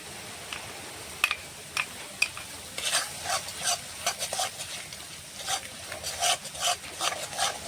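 Yogurt and cashew paste masala being stirred in a frying pan for a katla fish curry, with scraping, rasping strokes at an irregular pace over a soft sizzle, close and fairly clear.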